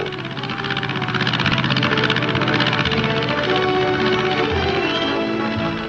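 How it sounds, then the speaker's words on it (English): A propeller engine drones loudly and continuously overhead with a pulsing throb, as the low-flying single-engine plane Spirit of St. Joseph passes close. "the sound of an airplane can be heard. A single motor ship flying low."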